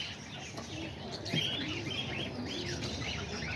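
Homing and roller pigeons gathered up in a loft, giving soft coos and a few short chirping calls against a quiet background.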